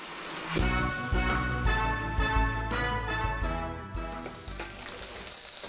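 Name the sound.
wieners browning and sizzling in a soup pot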